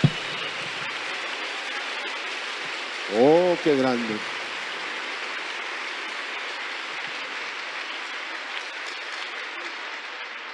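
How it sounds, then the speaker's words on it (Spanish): A church congregation claps in a loud, steady applause that runs throughout, with a short exclamation from a voice rising above it partway through. "¿Qué dice si le damos un sonoro aplauso a nuestro Señor?"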